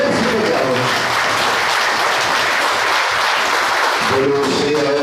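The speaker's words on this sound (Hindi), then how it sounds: "एक बार फिर जोर से ताली बजाओ" Devotees at a Hindu darbar gathering clap loudly and continuously in a dense, sustained burst of applause, with voices rising briefly at the start and end.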